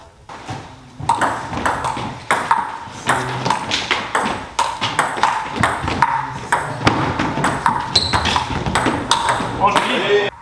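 A plastic table tennis ball is struck back and forth in a fast rally at a départementale 2 club match, ending in a forehand winner. Crisp, bright pings come in a quick, steady rhythm, with voices and shuffling in the background.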